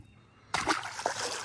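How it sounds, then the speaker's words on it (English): A fish strikes a drip minnow lure at the surface while bass fishing, making a sudden close splash with sloshing water after a quiet moment. "Y'all see that splash?"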